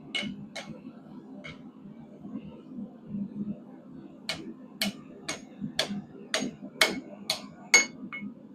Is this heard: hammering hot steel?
yes